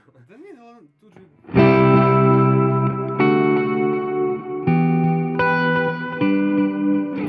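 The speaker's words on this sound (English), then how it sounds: "this is a long delay and a big reverb together" Big sustained guitar chords through a Fender Tone Master amp with long delay and big reverb, changing every second or so and ringing out loud; a brief voice sounds just before the first chord.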